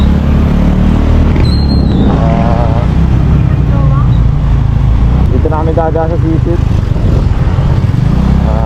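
A motorcycle carries riders along a road toward Poput Cave in Tanay, Rizal, in the dim early morning, its engine a steady low rumble that runs throughout beneath close talking voices.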